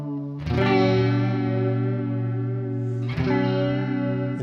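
Electric guitar through a Chase Bliss Audio Spectre through-zero flanger pedal: two sustained chords, each struck and left ringing with a sweeping, swirling comb-filter shimmer, loud and alone.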